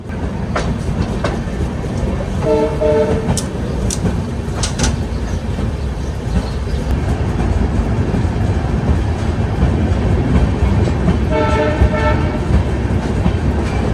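A Humsafar Express train runs along a single line through a city, giving a loud, steady rolling rumble and clatter from close by, with brief horn-like tones rising in the middle and again near the end.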